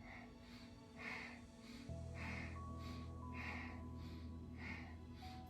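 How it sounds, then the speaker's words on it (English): Rhythmic breathing during a kundalini yoga kriya, with soft, even breaths repeating about once a second over a sustained musical drone and tones. "You can hear me breathing."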